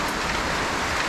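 Steady, dense hiss of rain falling on a surface, continuous and even throughout, with no voices.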